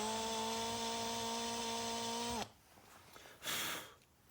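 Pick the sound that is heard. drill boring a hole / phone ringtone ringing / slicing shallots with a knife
drill boring a hole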